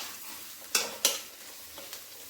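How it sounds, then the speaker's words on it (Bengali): A spatula scrapes through ol chingri bata, a paste of elephant foot yam and shrimp, in a dry pan over low heat: two sharp close strokes, then fainter scrapes against a soft background. "শুকনো কড়ার মধ্যে ভালো করে নাড়তে হবে।"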